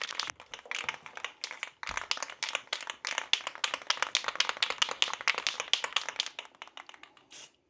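A can of Bondo spray is shaken hard for a bathtub chip repair. It gives a fast, continuous run of close, sharp rattling clicks that goes on for several seconds with a few brief pauses.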